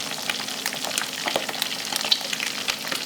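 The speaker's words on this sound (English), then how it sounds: "And now you can hear it bubbling away. It's getting the shrimp nice and cooked." Shrimp with pepper bubbles hard in hot oil for gambas al ajillo, a dense, continuous crackling sizzle with sharp pops scattered throughout, close and fairly loud.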